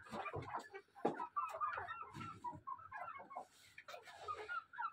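Hens and a big rooster cluck continuously in a farmyard, a dense, busy chatter of overlapping calls at moderate distance with little else around.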